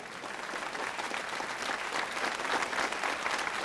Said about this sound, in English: Man, these applause just don't end.